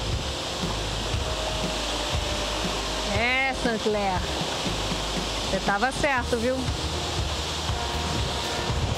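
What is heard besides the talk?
São Francisco river waterfall, Serra da Canastra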